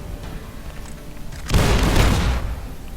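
A grenade blast erupts in Fallout: New Vegas, a sudden deep boom midway through with a rumbling tail that fades, following a quieter stretch of low background noise.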